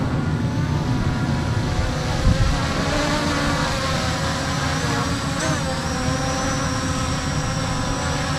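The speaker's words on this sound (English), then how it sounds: "There's the drone. There's the helipad." An HS720R drone flies and returns home to its helipad in windy conditions, giving a steady, loud whining buzz of spinning rotors that holds throughout with slight pitch shifts.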